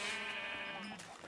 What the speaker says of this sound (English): Protecting my damn flock of sheep